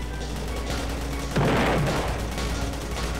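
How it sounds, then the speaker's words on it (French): A grenade blast and gunfire play out in a Roblox zombie-hunting game. Steady rattling shots are followed by a louder, sustained burst of explosive noise that fades back into continuous firing. "C'est une grenade."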